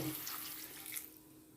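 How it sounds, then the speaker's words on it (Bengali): A small splash of water runs into a cooking pan of vegetables, a steady hissing pour that tapers off near the end, close and alone. "দিয়ে দেবো অল্প করে একটু জল"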